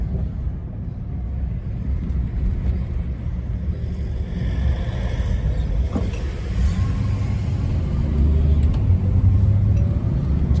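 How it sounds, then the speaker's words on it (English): A Bentley with a 4-speed GM turbo hydromatic gearbox drives along. Steady low road rumble and wind noise run throughout, with no talk. "First drive in the Bentley."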